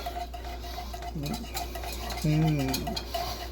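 A spoon stirring black pepper and chili powder into a thick cauliflower mac and cheese mixture, with soft scraping and a couple of brief clinks against the bowl over a steady low background hum.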